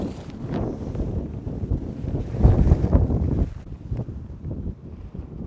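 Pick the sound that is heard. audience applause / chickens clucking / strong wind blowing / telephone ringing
strong wind blowing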